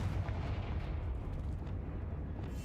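A fiery Confringo blast spell in a Hogwarts video game sounds as a deep, rumbling explosion that fills the short moment with a heavy, continuous low roar.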